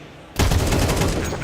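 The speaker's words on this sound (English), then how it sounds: "That was wallbang headshots." Gunfire from wallbang headshots in Counter-Strike bursts in suddenly after a short lull, a loud rapid crackle of shots ringing on for over a second.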